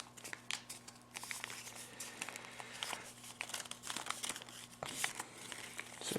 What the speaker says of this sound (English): We're going to flatten the whole thing out and kind of make a mirror fold with that right there.